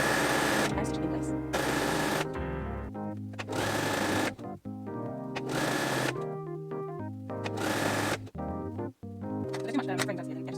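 A sewing machine stitches a folded fabric hem on a woven top in several short, close, loud bursts, stopping and starting in a steady rhythm, with music playing underneath.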